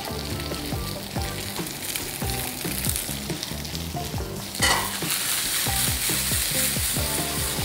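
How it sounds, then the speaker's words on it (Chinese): Pork pieces fry in a pan over a medium open flame, rendering out their fat with a steady loud sizzle broken by frequent rhythmic clatter from stirring and scraping throughout. "我哋去煎一煎佢先，煎香佢，同埋咧我係想咧攞去裏邊嗰啲豬油啊"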